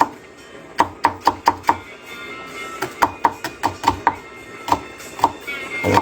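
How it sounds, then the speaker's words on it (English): A knife chops celery on a cutting board in quick bursts of sharp, close knocks, several fast runs of four to six strokes separated by brief pauses, loud and clear with no talk. "I'm just cutting up the celery"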